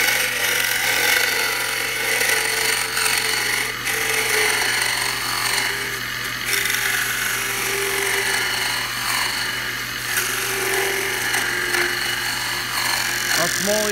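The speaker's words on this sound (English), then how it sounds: "you're forced to scrape it with a round nose tool" A round nose tool scrapes spinning wood on a lathe, a steady rasping whir over the motor's hum. A person talks intermittently over the turning.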